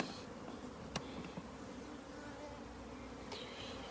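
Bees buzz around a beehive in a garden as a steady, faint hum fills the scene, with a couple of brief soft clicks and no one talking.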